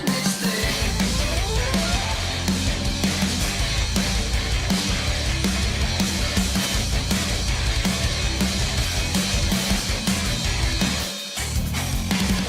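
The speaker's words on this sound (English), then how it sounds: "see if I could make my own Russian cover, and that sounds like this" Russian-language metal cover of a song, dense and loud with driving drums and heavy guitars throughout, briefly dipping near the end before the full band returns.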